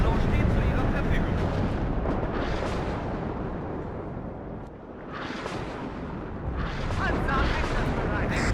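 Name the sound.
explosions as a building is blasted, WARNO video game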